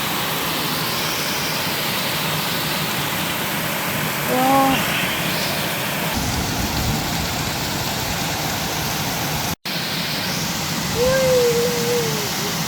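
A river running high roars steadily and loudly with a continuous, dense rush that barely changes, and a few faint tonal sounds rise briefly above it.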